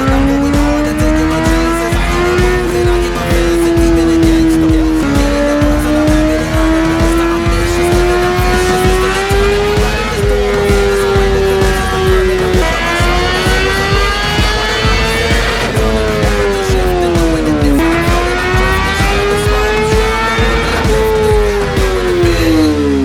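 A 2018 Honda CBR1000RR fitted with a Yoshimura slip-on exhaust runs on a dyno, its engine droning loud and close with steady pitch sweeps as the throttle rises and eases repeatedly, no voices over it.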